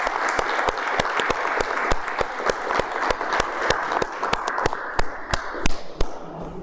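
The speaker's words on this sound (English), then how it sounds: "let's give a round of applause to my good friend Duke Heller" An audience applauds for speaker Duke Heller with steady, sharp clapping that sits close and fairly loud and keeps up for several seconds, thinning slightly toward the end.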